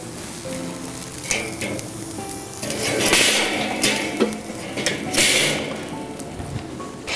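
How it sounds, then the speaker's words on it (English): Damp wood chips hiss and crackle on hot coals in a Weber grill, with a steady sizzle punctuated by sharper pops and scraping rustles as they settle. "Add your chips, but do make sure that you give them a good shake to remove any excess water before actually putting them over the coals."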